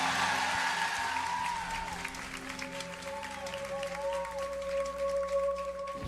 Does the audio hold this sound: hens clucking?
no